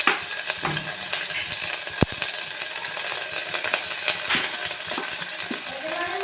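Thinly sliced onions sizzle and fry steadily in a pan as mushroom biryani is prepared, with an even hiss and occasional stirring scrapes and clinks throughout.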